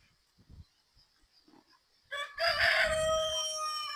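After a few soft clucks and shuffling sounds from chickens on a farm, a rooster lets out a loud, close crow that carries to the end.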